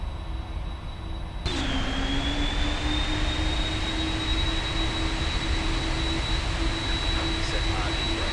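Boeing 747 jet engines idling in a flight simulator: a steady broadband roar with a high whine that dips after a sudden step up in level, then holds constant.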